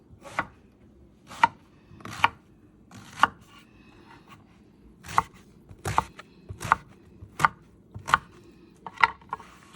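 A knife chops vegetables on a board for ciambotta, including potatoes, onion, celery, zucchini and eggplant, in sharp, close, irregular strokes, about a dozen over ten seconds, with quiet gaps between.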